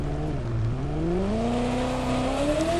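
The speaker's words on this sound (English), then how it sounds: "When this car hits the rev limiter, you will hear it" A race car in The Crew 2 driving game revs up through its gears and sits hard against the rev limiter, a loud, close, buzzing engine note climbing steadily with a rapid stuttering cut at the top.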